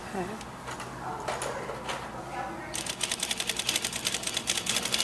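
A sewing machine runs in a fast, steady stitching rhythm, sewing close to the teeth of an invisible zipper, after a few seconds of quieter handling noises and a voice.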